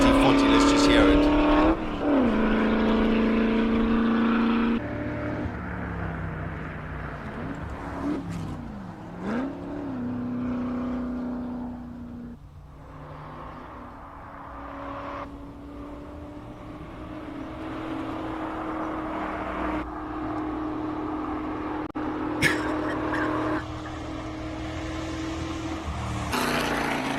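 A classic Ford GT40 races up a hillclimb course, its engine roaring near and loud, revving up and changing down through gears as it passes, while a commentator's voice talks over it.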